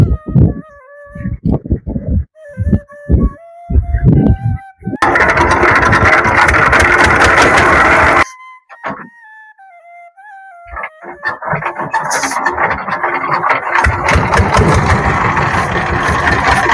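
A shallow-engine country boat on a river runs its engine with a loud, steady mechanical chug for long stretches, broken by quieter gaps where other tonal sounds come and go.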